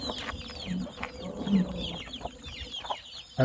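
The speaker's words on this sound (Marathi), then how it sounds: "कोंबड्या दाखव इकडे" Desi hens on a poultry farm cluck in a busy, overlapping flock, with short calls rising from nearby and further off, alongside scattered bird chirps.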